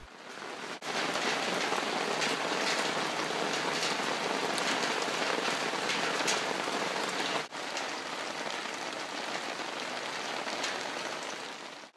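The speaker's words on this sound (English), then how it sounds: "This was the first real rain that we got." Steady rain falls and patters on a shipping container house, a dense even hiss of drops that continues without pause, with no one speaking.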